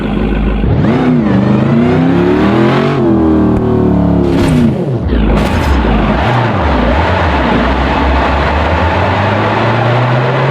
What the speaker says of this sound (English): Dodge Charger.